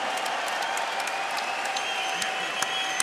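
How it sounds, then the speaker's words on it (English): An audience at a Bellator MMA event gives a round of applause for a fighter, a dense, even roar of clapping that stays steady throughout with a few sharper claps near the end. "So everybody, please, a round of applause to him."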